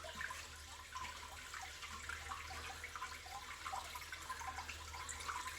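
A 1961 Case 1100 Lowboy toilet flushes, with a quiet, continuous watery rush and gurgle as it struggles against a clog, heard alone at low level.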